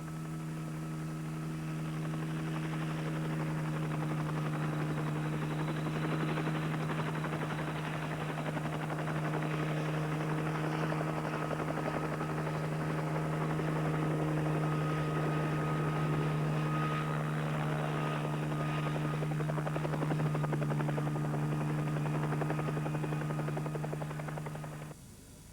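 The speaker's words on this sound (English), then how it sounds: "Ecuador sent a naval helicopter to carry supplies to the firefighters" A naval helicopter flying close by over the Galapagos, a loud sustained drone of rotor and engine that stays steady for a long stretch before fading slightly at the end.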